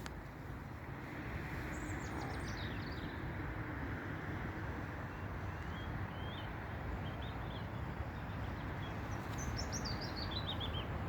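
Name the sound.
birds singing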